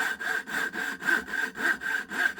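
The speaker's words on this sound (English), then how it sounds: "I'm going to cut out the shape of this fish" A hand saw cutting out a fish-shaped lure body from wood in a steady back-and-forth rhythm, about five strokes close up with no talking.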